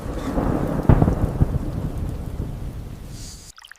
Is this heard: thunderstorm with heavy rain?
yes